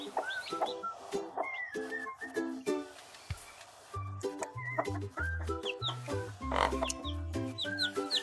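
A mother hen clucks low and steadily while newly hatching chicks peep in bright, rising chirps all around her, close and lively for the whole stretch, with a brief lull partway through.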